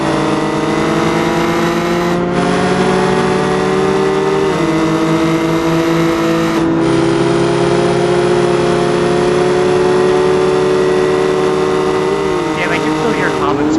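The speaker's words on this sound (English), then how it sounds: "Damn, I can still hear Comet's car." A GT racing car lapping the Bathurst circuit in a racing game gives a loud, continuous engine drone. Its pitch climbs and drops with quick gear shifts every few seconds, and another car's engine mixes in near the end.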